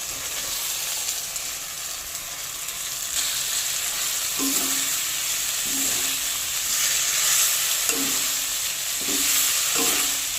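Cauliflower florets and potato pieces fry in a hot pan alongside chhana (fresh milk curd) for a Kashmiri-style vegetarian cauliflower dish, a steady loud sizzle broken by several soft stirring scrapes, no talking.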